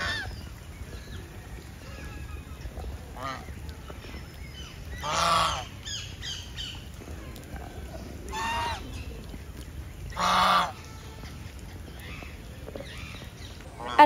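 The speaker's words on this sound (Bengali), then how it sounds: "বৃষ্টি হওয়ার সঙ্গে সঙ্গে এই রাজহাঁসগুলো খুব জোরে জোরে ডাকছিল" Geese at a pond during heavy rain honk in three loud, brief bursts, near and distinct over a steady background hiss of rainfall, with faint talking in between.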